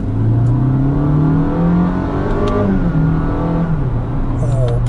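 A Honda Vezel Modulo X engine revs hard under acceleration with paddle-shift downshifts, a loud, steady engine drone rising in pitch, dipping at a shift, then climbing again, heard from inside the cabin.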